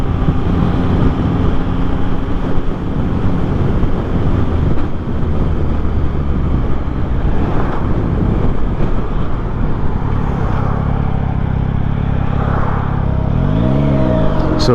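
A 2024 Yamaha MT-09 motorcycle engine drones under heavy wind rush while riding, steady throttle with a gear shift and a rev change near the end, no talking.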